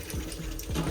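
Water running from a tap into a small sink in a clean train bathroom on the Coastal Pacific route in New Zealand, a steady close splashing stream with a faint mechanical hum underneath.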